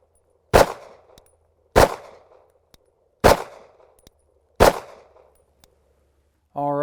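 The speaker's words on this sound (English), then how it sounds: "you want to make sure that you're starting to fire with a nice even cadence" Four sharp pistol shots ring out at an even cadence about a second and a half apart, each loud crack followed by a brief decaying echo, with a voice starting to speak just after the last.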